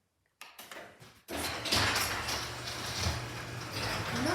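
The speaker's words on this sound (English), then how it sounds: "today I'm going to be opening my garage door" A LiftMaster 8550 garage door opener starts with a couple of clicks, then the door rolls open with a steady mechanical hum and rumble, fairly loud and close indoors.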